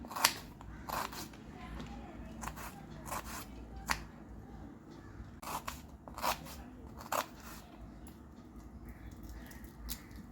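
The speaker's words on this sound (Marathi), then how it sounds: "दोन कांदे आणि दोन टोमॅटो कांदे मी लांब लांब कापून घेणार आहे" Onions being cut lengthwise with a knife on a board at home, scattered soft crisp slicing strokes at an irregular pace, faint and close over low background hum.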